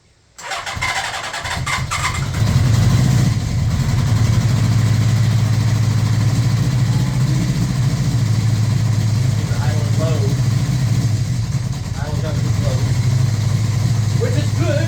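A 1981 Honda CB650 motorcycle with freshly rebuilt Keihin VB carburetors cranks and catches, then settles into a loud, steady, throbbing idle, with people talking faintly over it.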